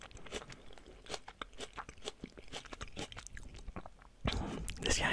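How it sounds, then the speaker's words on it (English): Crunchy, wet chewing of a Burger King Whopper, close to the mic, with irregular bites and mouth sounds throughout and a louder rustling burst near the end. "eating a delicious Whopper"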